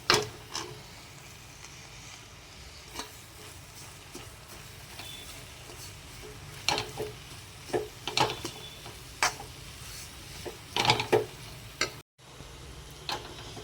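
Semolina, coconut and mango roasting in ghee in a pan, giving a soft steady sizzle broken by scattered scraping taps of a spoon while being stirred, fairly quiet with no talk.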